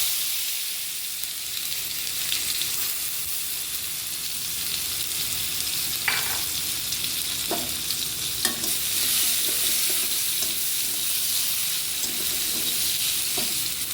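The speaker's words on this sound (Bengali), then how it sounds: "এবার আমি টমেটো কুচিগুলি দিয়ে দিচ্ছি তেলের মধ্যে।" Chopped tomatoes frying in hot oil in a wok (kadai) for bhindi masala, giving a steady, close sizzle and hiss throughout with a few brief stirring clinks.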